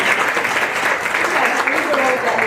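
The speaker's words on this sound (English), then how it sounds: "That should get your applause on that." Audience applause at a family reunification day celebration, a dense, steady crowd clapping that holds at an even level throughout, with some voices mixed into the noise.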